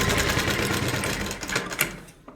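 A sewing machine stitches the pleats of a kameez with a steady, close, fast mechanical whirr that runs continuously and then stops abruptly at the end, with no talking.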